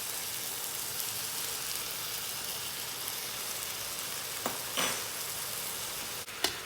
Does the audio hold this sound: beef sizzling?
yes